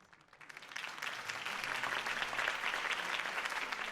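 A video game crowd bursts into applause, the clapping swelling quickly into a dense, sustained roar of many hands that continues steadily.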